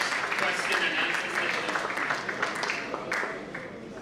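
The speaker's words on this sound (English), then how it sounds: "A round of applause, please, for this question and answer" Audience applause at the close of a question-and-answer session during a commission strategy retreat, a steady wash of clapping across a room with a few sharper claps standing out.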